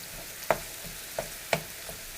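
Meat sprinkled with seasoned salt browns in a pan during trail camp cooking: a low, steady sizzle with three or four distinct utensil clicks.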